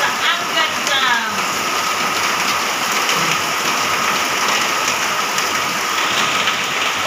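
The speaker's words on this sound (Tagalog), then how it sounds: "kasi umuulan" Steady, heavy rain hisses and patters on surfaces without pause, with faint voices briefly audible early on.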